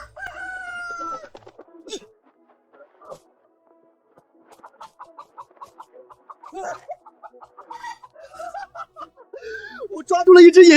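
A large rooster crows and then clucks in short bursts, close and fairly clear, with quiet gaps between calls and voices speaking near the end.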